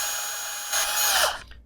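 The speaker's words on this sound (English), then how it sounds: "let me put my drill aside here. We got the hole drill." A power drill bores a hole into a plastic PRO 1000 ink cartridge, a steady high whine that rises in load as the bit bites through, then spins down and stops.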